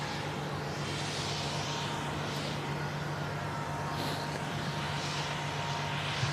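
An EasyJet jet at Manchester Airport, a steady broad engine roar with a constant low hum, held at an even level throughout with no talking.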